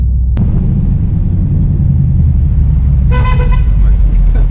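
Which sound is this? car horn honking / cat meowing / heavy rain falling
car horn honking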